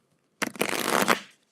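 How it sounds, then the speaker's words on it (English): Tarot cards are shuffled once, a brief close riffle with a papery flutter ending in a soft tap, with nothing else around it. "Shuffle, shuffle."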